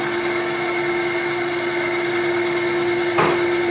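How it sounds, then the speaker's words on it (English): A power saw runs with a steady high-pitched hum at close range while ripping a 3/4-inch oak board along a fence, with a brief louder burst of cutting near the end. "we'll just go ahead and rip that down using the fence. So we'll fire up the saw."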